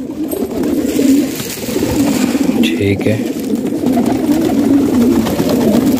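Pigeons on a rooftop, kept by a fancier, cooing and fluttering softly close by over a steady bed of outdoor noise, with someone speaking briefly partway through.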